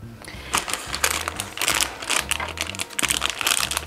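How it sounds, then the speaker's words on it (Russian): A plastic blind-bag packet holding a collectible toy is torn and opened nearby, producing bursts of sharp crinkling and rustling with small clicks over about four seconds, no speech. "Итак, открываем первый заветный пакетик."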